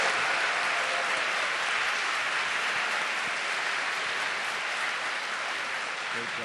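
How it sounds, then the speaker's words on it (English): Sustained applause from a seated audience fills the hall for a panel at a school health event, dense steady clapping continuing without a break. "Can we have a round of applause again for the panel?"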